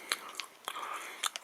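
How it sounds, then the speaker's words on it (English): A frosting-covered banana marshmallow snack is bitten and chewed close up, with a few soft crunchy bites and moist chewing sounds over a quiet background. "sorry for my chewing noise"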